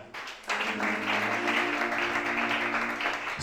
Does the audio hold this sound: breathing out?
no